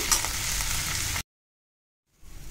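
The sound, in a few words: onions sautéing in hot oil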